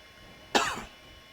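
A single short cough from a person, close and fairly loud, standing out alone against quiet background hiss with no speech.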